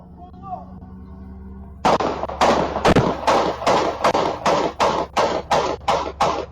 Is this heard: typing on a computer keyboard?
no